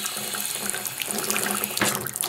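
Hot water running from a household faucet into a sink, a steady splashing hiss with bursts of louder gushing, close by and without talk.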